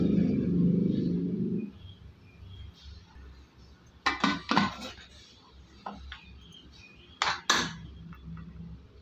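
On a kitchen stove, a low hiss fades out and is followed by several sharp metallic clanks as the lid is shut on a pressure cooker of ven pongal and its weight is set on top.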